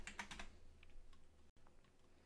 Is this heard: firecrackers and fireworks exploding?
no